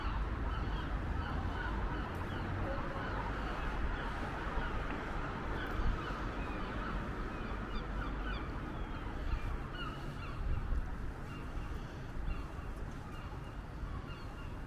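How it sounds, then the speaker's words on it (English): A flock of seagulls keeps up continuous, overlapping squawking beside Liverpool Parish Church, Our Lady and St Nicholas, near the river. The cries are loud and dense over a steady outdoor hum, with no clear pauses. "Seagulls are shouting."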